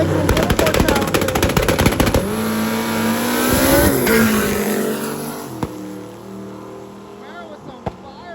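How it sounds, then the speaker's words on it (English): A Camaro drag racing car roars with rapid, crackling exhaust bursts, then the engine noise fades away, leaving a couple of sharp pops. "Camaro with some fireballs on the exhaust."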